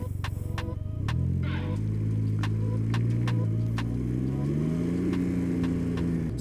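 A 2021 Can-Am Ryker Rally Edition three-wheeler pulls away, its engine idling at first and then rising in a smooth, steady drone that climbs in pitch as it rides off, close and fairly loud with no talk.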